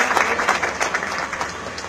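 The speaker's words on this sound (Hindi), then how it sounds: "तो मैं चाहूंगा कि तालियों से स्वागत करा जाए उनका।" Applause welcoming a union general secretary at a BSNL staff meeting in Meerut, a steady patter of many hands clapping in a room for about two seconds, with no talking.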